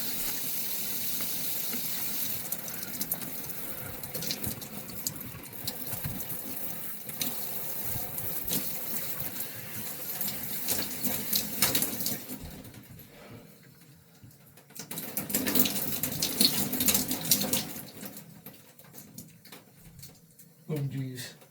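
Water from a shower head runs into a rubber glove stretched over it, a steady splashing gush that continues under excited talk and exclamations, with louder surges near the end.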